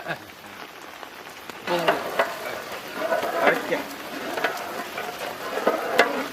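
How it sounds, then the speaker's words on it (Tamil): Orange marmalade thickening with sugar in a pan is stirred with bubbling, sputtering sizzles and scraping strokes that come in irregular bursts, loud and close, with a voice talking at points. "சர்க்கரை இனிமே கிண்டுறத நிக்காம கிண்டு"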